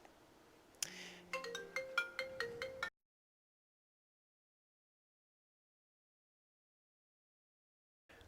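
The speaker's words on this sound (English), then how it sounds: "I just got a phone call" A phone ringtone plays a short rising melodic pattern of several notes for about two seconds, then cuts to silence.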